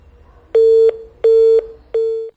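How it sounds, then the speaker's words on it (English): Telephone dialing tones while placing a phone call: three loud, steady electronic beeps of equal pitch, each about a third of a second long, evenly spaced with short pauses and no talk. "We placed a phone call to him as well."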